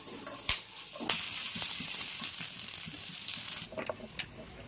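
Cumin, pepper, ginger and garlic hit hot oil with a sudden loud sizzle that holds steady for several seconds, then fades into softer crackles and a few stirring knocks.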